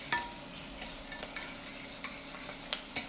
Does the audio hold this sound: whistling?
no